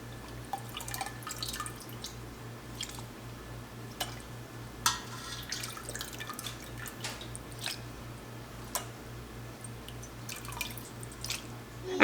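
Whey from cheddar curds drips steadily through a cheesecloth-lined colander, soft irregular drops falling over a constant low electrical hum.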